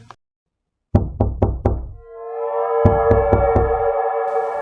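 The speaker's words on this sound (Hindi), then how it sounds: "गीता, जरा जाकर देखो तो कौन दरवाजा खटखटा रहा है बाहर।" Someone raps four times on a door in a village house at night, loud, sharp and close, then after a tonal musical swell four more knocks land over the drone.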